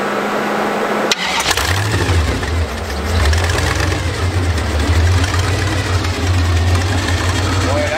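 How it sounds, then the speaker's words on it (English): A home-built vehicle's engine cranks and catches, then settles into a loud, steady, throbbing idle close by, with someone talking over it. "And hey, I'm going to start it up for you. Just listen how nice this motor sounds."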